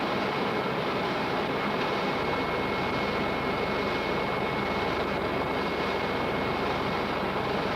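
Jet engines of a United Airlines Boeing 727 roar through a takeoff roll in a steady, loud, broadband rumble with a faint high whine, unbroken for the whole stretch.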